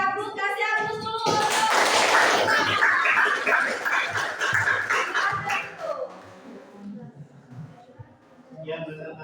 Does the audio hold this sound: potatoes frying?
no